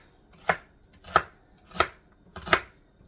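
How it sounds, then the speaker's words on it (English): Knife chopping onion on a cutting board while making a bologna casserole: four evenly spaced, crisp chops about two-thirds of a second apart, close and clear, with no talking. "let's chop this onion part up"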